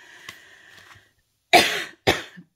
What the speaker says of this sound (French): Je sens que je vais tousser